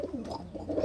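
Pet pigeons, fancy breeds kept in a loft, coo in soft rolling calls that rise and fall, nearby and continuous, with no talk over them.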